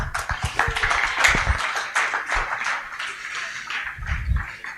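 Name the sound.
audience clapping for group 4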